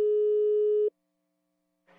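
Telephone line tone heard while dialling a prank call, a single steady beep of just under a second that cuts to silence before the line opens.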